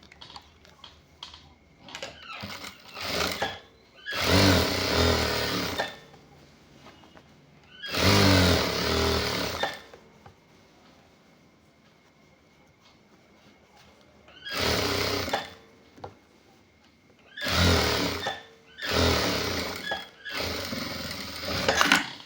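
A sewing machine runs stitches along the side seam of a half-sleeve shirt in several short bursts of whirring, separated by quiet pauses, loud and close.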